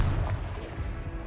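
A Confringo fire spell blasts in the Hogwarts Legacy video game as a dense, rumbling explosive burst. The low booming impacts run continuously through the short stretch, loud and close, with no voices over them.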